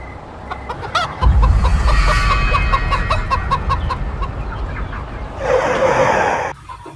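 A chicken that has escaped from a vehicle clucks in a Bengali 2D animated horror cartoon: a run of loud, close, repeated clucks, then a brief noisy rustle near the end, with no talking.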